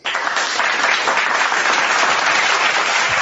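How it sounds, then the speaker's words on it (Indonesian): Steady, dense applause from an audience at a live religious debate event, loud and continuous throughout with no pauses. "Tepuk tangan"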